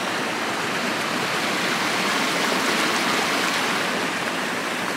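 A river stream rushes steadily along the Minffordd path up Cadair Idris in Snowdonia, Wales, a close, constant broadband flow with no voices.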